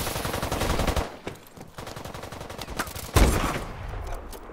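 Rapid automatic gunfire in a first-person shooter rattles close and loud, easing briefly before a heavy burst returns and keeps firing to the end.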